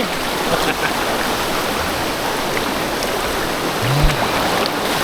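Strong stream water rushing down a waterfall at Than Thip falls in Prachin Buri, a continuous close, loud hissing wash with a few splashes and a brief low tone near the end.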